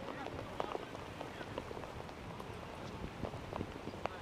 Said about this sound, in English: you can see there that the rain is coming down a little bit here